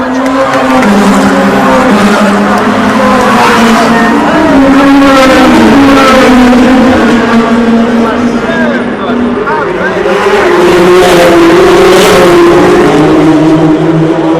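Le Mans prototype and GT race cars thunder past on the opening lap of the 2015 24 Hours of Le Mans, a continuous loud roar of overlapping engines with rising and falling revs, crowd noise faintly underneath.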